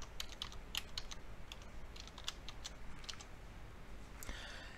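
Fingers type a preset name on a computer keyboard, a quiet run of quick, light key clicks in an irregular rhythm with no talking.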